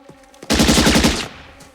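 Automatic gunfire from M16 rifles on full auto in an action movie battle scene, a single loud rapid burst of about a dozen shots lasting under a second, close and alone.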